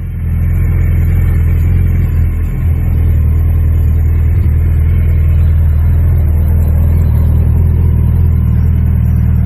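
A Suzuki Hayabusa motorcycle engine rumbles loud and close as the bike rides off, a steady, heavy low drone that runs throughout with little change.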